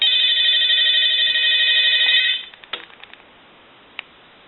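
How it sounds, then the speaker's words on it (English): An Ericofon reproduction telephone in brushed stainless steel rings with a bright, buzzing electronic tone for about two seconds, then stops, followed by a few faint clicks and a single soft tap. "I'm going to go ahead and ring the telephone now"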